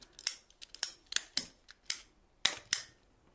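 A PVC pipe cutter snips through thick-walled reinforced pressure pipe, giving a series of sharp, crisp ratcheting clicks and snaps at an uneven pace, close and loud with no voices.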